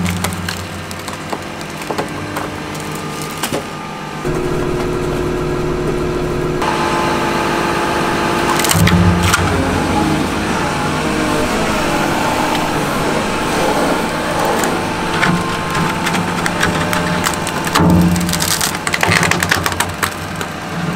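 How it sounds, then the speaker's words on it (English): Heavy machinery from a ranch-building video game as a wheel loader pushes against a wooden post, with a steady engine drone, creaking wood and splintering crackles rising through the middle of the clip, no talk. "We're just gonna put a little pressure on this one with the wheel loader."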